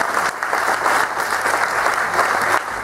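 Audience applause at a French-language event, a dense, steady wash of clapping hands that stays loud and even from start to finish, with no voices over it.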